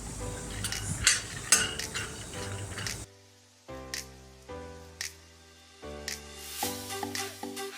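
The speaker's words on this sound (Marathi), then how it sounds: "तसंच आता शेंगदाणे पण भाजायचे आपल्याला त्याच्यातच टाकूया ते पण लवकर भाजतात" Peanuts being dry-roasted in a pan give rattling, clinking rolls of shells against metal, loud and busy at first, then a quieter stretch broken by separate bursts of tumbling clatter, close up.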